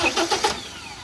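Mahindra 575 tractor engine cranking and catching, a quick series of three or four rhythmic turnover pulses that settle into a low running rumble within about a second.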